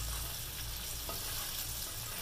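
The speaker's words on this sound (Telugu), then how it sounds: "జ్యూసీగా టేస్టీ ఫిష్ కర్రీ చక్కగా వేగిపోతున్నాయండి" Fish curry bubbles and fries in a pan with a continuous soft sizzle close by and no talking.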